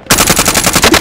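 A loud, close burst of rapid automatic gunfire from a video game firefight fills a second or so, with continuous overlapping shots.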